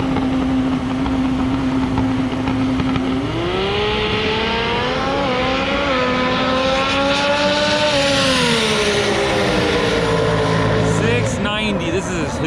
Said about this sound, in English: This is Gio coming up now, the Real Street Performance White Supra.